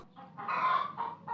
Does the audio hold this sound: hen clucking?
yes